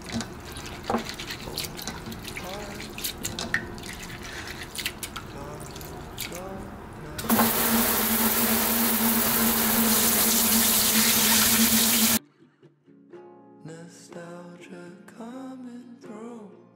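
Water runs and splashes as something is rinsed, first with handling and drips, then a loud steady stream, followed by quieter sounds.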